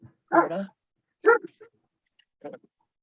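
A dog barks close by, reacting to fireworks: three separate barks spaced about a second apart, the last one softer, with silence between.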